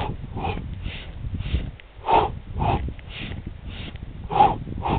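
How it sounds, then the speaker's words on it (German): Short, interrupted sniffing inhales repeat rhythmically during a walking workout in the Alps, with breathy bursts arriving every half second or so, close and moderately loud, with no talking. "atmen, wenn es geht, manchmal mit der sogenannten Schnüffelatmung"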